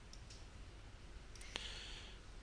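A computer mouse on a Mac clicks a few times while drawing shapes, sharp single clicks, one louder near the end, over a steady quiet hiss.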